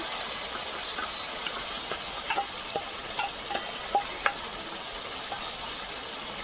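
Ginger paste frying in hot oil for a chicken masala curry, a steady close sizzling hiss with a few scattered spatters and pops, no one speaking.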